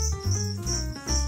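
Crickets sold as live reptile feeder insects, European field crickets and two-spotted crickets, chirp in short repeated bursts with brief gaps. The sound is fairly close and clear, with no talking.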